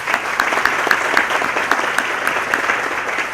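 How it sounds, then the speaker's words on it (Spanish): An audience at a Dominican cultural dictionary launch event in Miami claps for an honoured writer. Many hands beat in a dense, lively patter with sharp individual claps poking through, close and steady throughout. "Un gran aplauso para Jimmy"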